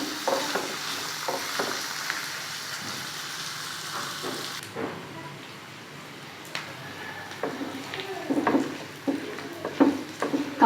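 Cashews and melon seeds fry in a pan, soft crackle and sizzle with intermittent scraping stirs and light clicks of the nuts shifting, close and moderately quiet.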